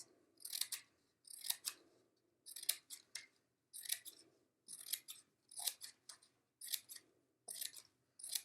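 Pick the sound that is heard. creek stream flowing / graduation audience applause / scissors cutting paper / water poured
scissors cutting paper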